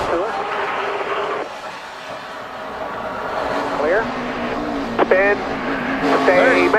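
A NASCAR race car spins out with tires squealing in sharp rising and falling bursts over a loud, close engine roar, while radio chatter from a spotter comes and goes underneath.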